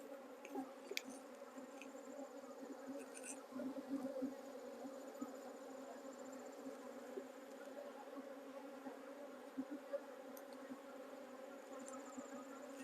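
Honey bees hum in a steady, dense drone from an open hive during midsummer colony management, a continuous close buzz with occasional individual bees whining past.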